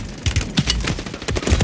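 Video game gunfire rattles up close in rapid, uneven bursts of loud shots, short automatic volleys following one another without pause.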